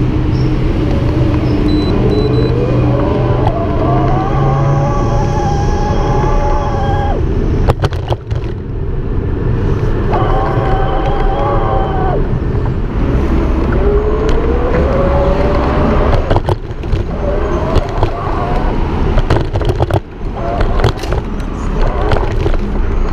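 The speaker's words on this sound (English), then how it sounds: "hopefully you can hear the motor, and I'm just gonna ride around a little bit, listen for how responsive it is" A Gazelle Avenue C8 e-bike's mid-drive motor whirs steadily while riding, its rising and falling whine sitting over constant road and wind rumble, with a few clunks and bumps along the way.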